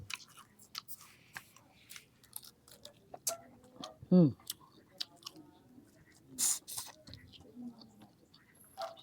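Close, crisp chewing and biting of crispy fried food, a scattered series of crunches and mouth clicks at close range, with a brief murmured voice in the middle.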